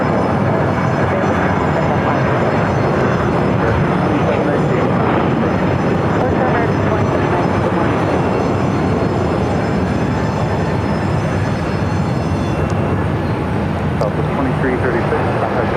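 Airliners arrive and depart on the parallel runways at Phoenix Sky Harbor airport, a steady, loud broadband roar of jet engines that holds throughout, with voices faintly present.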